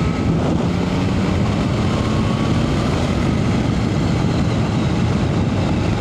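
Triumph Tiger Sport 660 motorcycle (2025) accelerating hard in sport mode, a steady loud engine drone with heavy wind rush throughout, no gaps or pauses.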